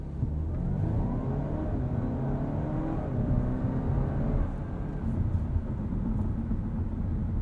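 A 2020 Audi A4 45 all-wheel-drive sedan pulls ahead under acceleration, its engine drone and road rumble rising steadily from inside the cabin, with no talking.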